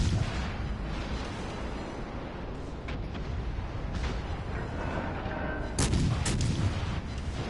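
Heavy naval gunfire from battleships in a PS4 game, with a rolling, continuous barrage of deep booms and louder blasts clustered near the end, loud and close with no talking.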